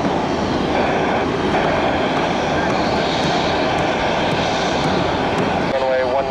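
A Delta airliner rumbles loudly down runway 19 right at Tampa airport on its takeoff roll, a dense steady engine roar with air traffic radio talk over it.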